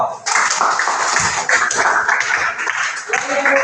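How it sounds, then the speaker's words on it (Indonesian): Students in a classroom clap for a group named best in the lesson, a dense ongoing burst of hand claps with voices mixed in. "Tepuk tangan untuk kelompok 2."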